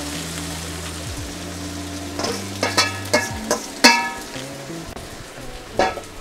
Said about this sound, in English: And then I'm going to add the fried rice back to the wok. And we're going to sear it.